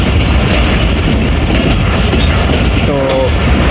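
Rehman Baba Express passenger train running on rails between Rawalpindi and Faisalabad: a loud, steady roar of wheels and rolling carriages heard from onboard, with a brief metallic squeal near the end.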